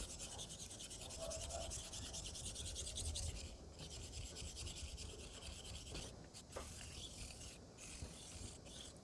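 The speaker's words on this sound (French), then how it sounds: "on commence toujours avec des va-et-vient qui ont un effet un peu plus abrasif sur la lame" A straight razor blade drawn back and forth across a Black Shadow 12-15K sharpening stone, giving a steady, close abrasive rasping that runs continuously, with a few brief breaks near the end.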